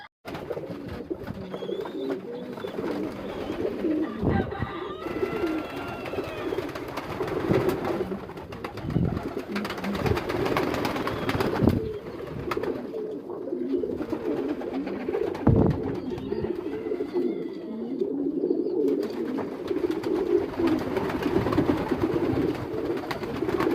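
Racer pigeons coo over and over in low, throaty murmurs, close by, with occasional sharp knocks and faint chirps around them.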